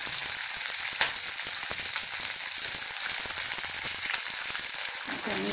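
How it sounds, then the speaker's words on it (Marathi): Green peas sautéing in hot oil in a pan for malai methi matar, a dense, steady sizzle and crackle running throughout with no talk over it. "मी हे मटार पण छान परतून घेते।"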